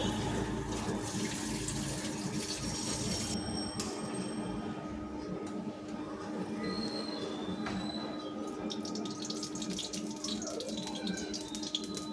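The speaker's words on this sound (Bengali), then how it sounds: "তো আমি কড়াটা ধুয়ে নিচ্ছি।" Tap water runs and splashes as a kadai is rinsed at a kitchen sink, with clanks and scrapes of the metal pan against the basin and a steady hiss of flow underneath.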